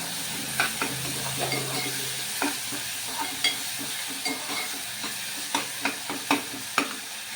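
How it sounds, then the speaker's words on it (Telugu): A large tomato cooking in hot oil in a pan, a continuous close sizzle broken by a regular series of spatula stirs and scrapes, with no voices. "ఇది మనకి ఈ స్టేజ్లో వేస్తే ఆయిల్లో మంచిగా ఉడుకుతుందండి"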